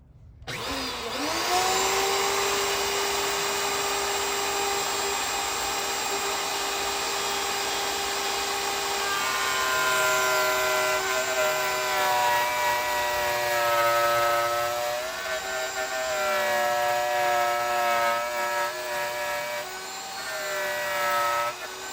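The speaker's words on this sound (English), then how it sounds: "a real-time, real noise view of milling this channel into the tops of these" A router table cuts a channel into Azek Frontier PVC window trim, giving a steady, loud, high whining mill tone held for the whole stretch, with slight pitch shifts as the bit works along the stock and no talk.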